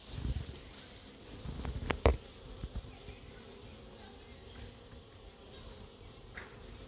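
Honey bees buzz around a small hive in an apiary at Crosne, a soft continuous droning hum with a few sharp knocks and rustles near the start.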